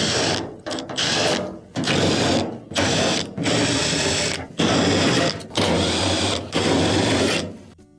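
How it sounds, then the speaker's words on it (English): Power driver backing out quarter-inch screws from a dryer bulkhead, a series of loud whirring bursts of about a second each separated by short pauses, close and without speech. "there are multiple 1/4 inch screws that'll need to be taken off"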